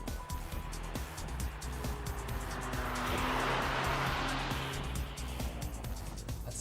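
Mini Cooper on a flying lap of the Anglesey racetrack, engine droning at high revs with rising and falling pitch and a swelling rush of tire and wind noise midway, fairly close.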